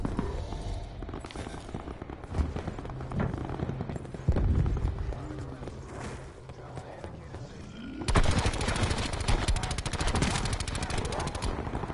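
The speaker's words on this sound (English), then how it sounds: "We're shooting zombies." Gunfire while shooting zombies in a PS4 video game: rapid bursts of shots at moderate distance, growing into denser, louder continuous firing near the end, no talking.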